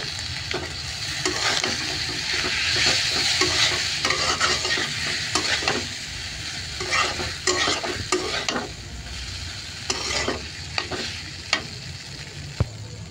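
Boiled noodles stir-fried in a hot pan, with steady sizzling under repeated scraping and tossing strokes of a utensil, close and fairly loud throughout.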